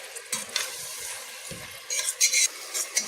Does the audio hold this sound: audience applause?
no